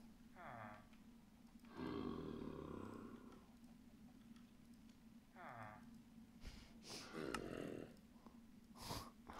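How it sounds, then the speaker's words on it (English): Minecraft villagers from a heavily modded game make repeated low grunts and heavy, snorting breaths, quiet and intermittent under ambient game sound. "So much grunting and heavy breathing."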